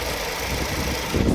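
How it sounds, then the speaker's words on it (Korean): A gasoline Chevrolet Impala idles with its hood open, a steady, even engine drone recorded close to the engine bay with a slight rise in rumble at the end. "엔진 소음을 담기 위해 본네트를 한번 열어봤는데요. 영상으로 엔진 소음 한번 담아보도록 하겠습니다"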